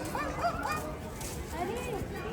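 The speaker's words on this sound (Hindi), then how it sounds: "कुत्ते भी आए हैं क्या?" A dog yips and barks a few times outdoors at Humayun's Tomb in Delhi, faint and somewhat distant, with voices and crowd murmur around it.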